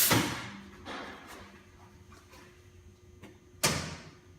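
The back door of an SMW-102 machine swings open with a close sliding thump and latch clicks, then a few lighter knocks, ending in a sharp bang near the end, with no talking.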